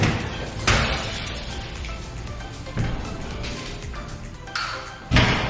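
A horse stall door with a metal sweep being worked in a barn under construction, giving several loud slams and thuds over a constant rattling, scraping background.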